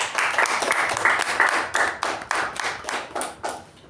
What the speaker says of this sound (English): a wonderful round of applause, please.